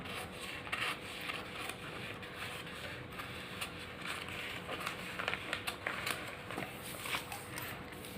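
Scissors cutting a paper blouse pattern, a soft close rasping and scraping of blades through paper with light rustling, quiet and without talk.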